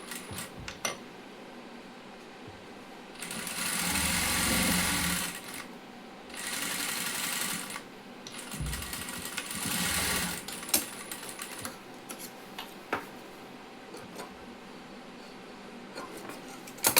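Sewing machine stitching a saree petticoat, running in three separate bursts of steady, loud whirring with quiet pauses between, plus a few faint clicks and handling noises.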